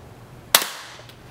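A single sharp crack from a .22 rifle firing a CCI Mini Mag .22 Short subsonic round, a 29-grain bullet at 710 feet per second, a quick close report that decays fast with a faint thud just after.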